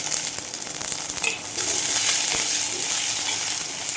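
Curry leaves drop into onions sautéing in a pan for fish curry, setting off a steady, close frying sizzle that swells louder after about a second and a half and holds bright and hissing to the end.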